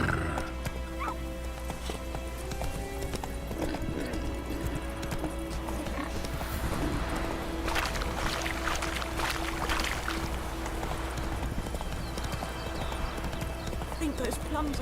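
Roach the horse trotting in The Witcher 3, rhythmic clip-clop hoofbeats with occasional snorts over game ambience and music, with a voice speaking over it.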